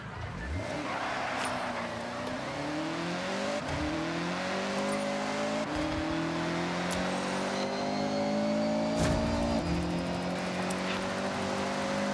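Mazda Miata engine in the Forza Horizon racing game, revving and climbing through gears with rising, stepped pitch sweeps, loud and continuous.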